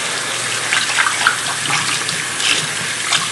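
A bathroom tap runs loudly and steadily while soapy hands are rinsed under it, with a close, continuous splashing gush and no voices.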